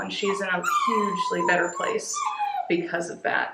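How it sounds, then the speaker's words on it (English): A dog whimpers and yips in the background of a room while someone speaks over it, the high, wavering whines rising between and under her steady talk. "Sorry, that's my dog."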